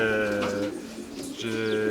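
Racing pigeons coo in their loft, steady layered cooing from several birds close by, with a brief dip in the middle before the cooing swells again.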